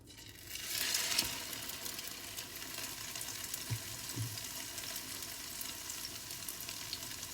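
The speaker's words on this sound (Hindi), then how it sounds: "अब हम ये डिप्ड टोस्ट जो है वो इसमें फ्राई होने के लिए डाल देंगे।" Egg-dipped French toast hits hot oil in a pan on a low flame, giving a steady, fairly quiet sizzle that swells briefly at the start. A couple of soft knocks follow, then the frying settles into an even hiss.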